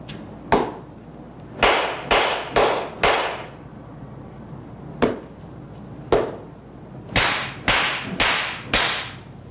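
Sharp wooden stick slaps on the shoulder during Zen meditation, about a dozen crisp cracks landing singly and in quick bursts, close and loud over a quiet room.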